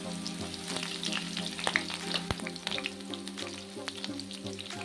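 Chopped onion, green chillies and curry leaves frying in a pan for a cucumber and raw prawn curry, a close crackling sizzle with clattering spoon strokes and one sharp knock midway, no voices.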